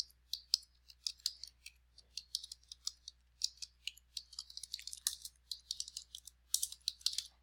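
Fingers type on a computer keyboard while a username and password are entered, a quiet, close series of irregular clicks and key taps in quick bursts with no talking.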